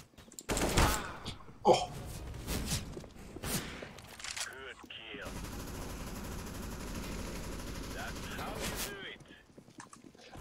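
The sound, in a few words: AK rifle gunfire in a video game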